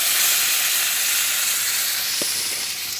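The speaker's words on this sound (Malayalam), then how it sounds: "ഒരു കപ്പ് വെള്ളം ഇതിനകത്ത് ഞാൻ ഒഴിക്കുവാണ്" Boiled water is poured into ghee and sugar in a pan while making kesari with butterfly pea flowers. It produces a loud, steady hiss and sizzle with a faint splash near the end.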